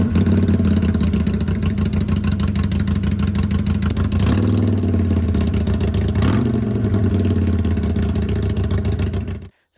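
A Harley-Davidson Low Rider ST fitted with Cobra slip-on exhaust runs loud and close, a steady deep rumbling idle with two short blips of revving before cutting off abruptly at the end.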